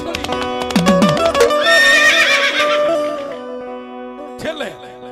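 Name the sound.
horse neighing, storytelling sound effect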